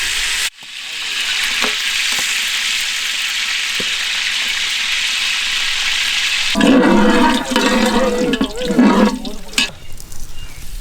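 Cinnamon and whole spices are dropped into hot oil for a duck biryani, giving a loud, continuous sizzle. After several seconds the frying turns busier, with clattering stirring sounds over the hiss.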